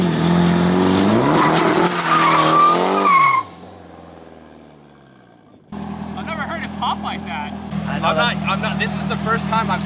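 A Nissan S14 with an SR20 engine drifts on fresh rear tires, its engine wailing and tires skidding loudly up close, then briefly fading before a second roaring, squealing slide returns, with voices talking over it.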